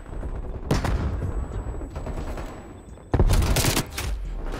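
Automatic weapon fire from Call of Duty Cold War crackles in fast, loud bursts, a sustained stream at first, then a quieter gap before another heavy close burst, with faint background game noise.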